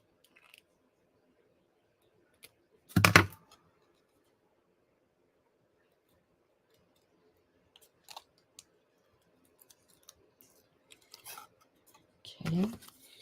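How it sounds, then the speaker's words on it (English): Scissors cut through ribbon at an angle while a card is being made, with one loud crisp snip and a few fainter snips and rustles after long quiet gaps. "Let me cut them on an angle."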